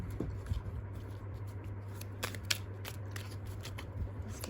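Deck of cards being shuffled by hand, soft rapid riffling and patter with a few sharper flicks, close and quiet over a low steady hum, with no talking.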